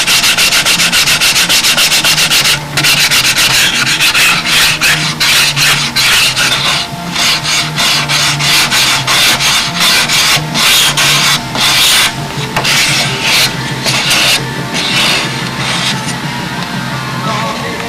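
Sandpaper rubbing chalk off a wooden wing on a Windy I Beam Spitfire model, a close, loud, steady scraping with rhythmic back-and-forth strokes throughout, no voices.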